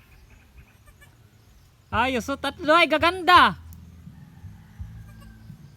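A goat bleats in a short burst of several wavering, nasal calls near a mother goat that has just given birth to three kids on a farm, loud and close against a quiet background, with a person speaking Filipino just afterward.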